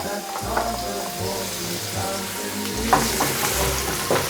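Chunks of leftover Christmas turkey being seared in a hot pan for a Chinese-style dish, with a steady loud sizzle and occasional stirring scrapes and clinks, no talking.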